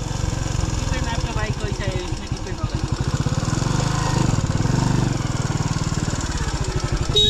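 A motorbike engine labours in steady pulsing rhythm while climbing a slope on a road trip from Nepal toward India, loud and close throughout, with a voice talking over it.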